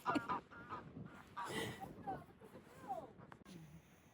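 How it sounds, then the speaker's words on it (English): A goose honks outdoors at a campsite in Aberdeenshire, several faint, scattered honks under a person talking nearby. "you can see the goose"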